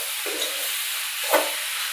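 Bottle gourd chutney stirred in a pan with oil, a soft steady sizzle and hiss with a couple of brief scraping stirs, close and moderately quiet with no voices.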